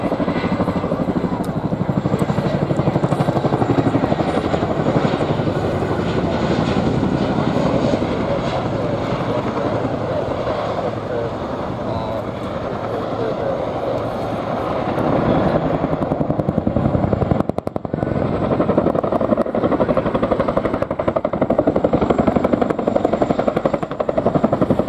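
A Chinook helicopter maneuvering at the Farnborough International Airshow 2026, its heavy rotor and engine roar loud and steady throughout, dipping slightly mid-way before swelling again.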